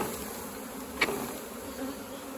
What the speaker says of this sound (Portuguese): Muita abelha. Muita abelha mesmo.